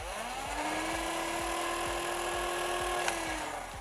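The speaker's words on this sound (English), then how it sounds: "Here we go with the Spectrum rev sound." Flywheel motors of a Dart Zone Thunderbolt foam blaster, powered by Energizer Lithium batteries, spin up and hold a steady, aggressive high-pitched whine at close range, with a faint click near the end.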